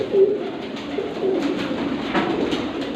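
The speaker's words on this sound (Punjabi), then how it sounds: "ਵੇਖੋ ਜੀ ਕਬੂਤਰ" Pigeons of several pure breeds kept by a fancier give soft, low cooing calls in a few short bursts over a steady hum of ambient noise, fairly close and moderately loud.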